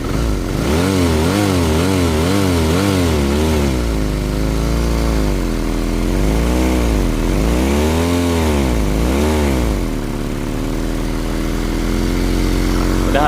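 A Honda CBR motorcycle engine, freshly rebuilt, sputters and coughs loudly as it tries to fire, uneven pulsing bursts rising and falling in pitch at close range, with no talking over it.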